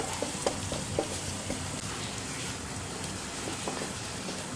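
Ginger-garlic paste sautéing with softened onions in a pan while making cutlets: a steady, dense sizzle with scattered clicks and scrapes of stirring, close and continuous, with no talking.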